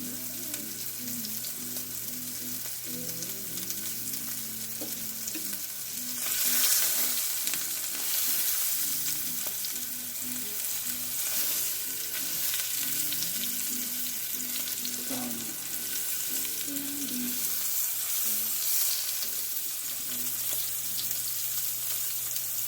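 Italian sausage sears in a hot pan with a continuous close sizzle and spitting crackle, swelling briefly as pieces are turned, over a low steady hum in a kitchen.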